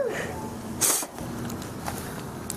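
A single sharp sneeze bursts out close and loud against a breezy outdoor background, brief and isolated.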